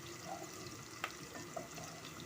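A spoon stirs a pot of simmering kadhi with soft scraping and bubbling, broken by a single faint clink against the pot.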